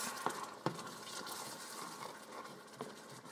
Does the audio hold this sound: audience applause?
no